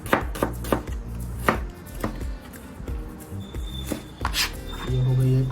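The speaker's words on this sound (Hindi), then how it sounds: "ये हो गई एक प्याज, बाकी प्याज को भी ऐसे ही हम काट लेंगे।" A knife rapidly slicing onions on a cutting board for nihari, sharp repeated chops in an uneven rhythm, close and clear, ending with a brief clatter of pans.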